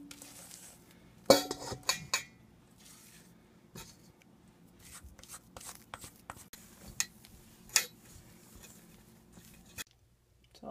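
Macaron batter is stirred in a bowl with a utensil, giving soft scraping and intermittent clinks against the bowl, close and quiet, with no voices.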